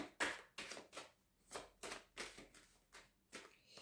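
Tarot cards being shuffled by hand, a run of about nine crisp riffling bursts at a steady rhythm, close and fairly quiet with no talking.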